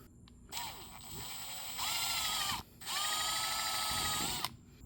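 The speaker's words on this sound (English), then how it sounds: "We're going to take a small drill bit and go through that and then recheck and line it up." A power drill with a small bit bores through a car bumper in two whining bursts, the second longer and louder, with a short pause and quiet handling noises between and around them.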